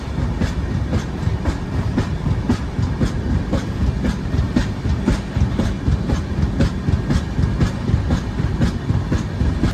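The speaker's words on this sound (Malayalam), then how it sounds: "അതാണ് ഈ ട്രെയിൻ പയ്യെ പോകുന്നത്" Inside the Cocanada Express creeping through heavy fog, wheels beat out a steady rhythmic clickety-clack over rail joints beneath a continuous rumbling roar, loud and close throughout.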